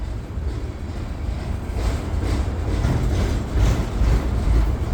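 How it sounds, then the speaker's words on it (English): Norfolk Southern intermodal freight train with several locomotives rolling past north of Findlay, Ohio, a heavy low rumble with faint rhythmic wheel clatter that grows slightly louder toward the end. "Norfolk Southern intermodal coming through with 2 locomotives on it."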